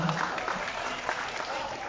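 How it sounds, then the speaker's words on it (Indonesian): A crowd at a Nasdem party rally in Indonesia declaring Anies Baswedan as 2024 presidential candidate claps steadily in a dense wash of applause, with a voice faintly audible underneath. "Mari sama-sama kita berikan tepuk tangan yang meriah untuk kita semua"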